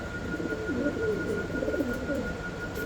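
Pigeons coo softly in a loft in a pigeon farm, a few gentle warbling calls repeating close by over a low steady background hum.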